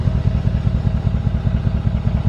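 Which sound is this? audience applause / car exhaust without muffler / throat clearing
car exhaust without muffler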